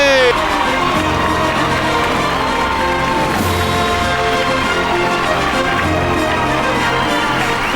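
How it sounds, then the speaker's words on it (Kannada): An audience at an award show applauds and cheers loudly and continuously, with whoops and shouts rising over sustained clapping and background music. "ಜೋರ್ ಚಪ್ಪಾಳೆ ಬರಲಿ"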